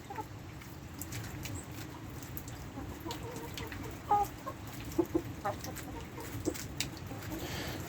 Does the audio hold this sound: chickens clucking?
yes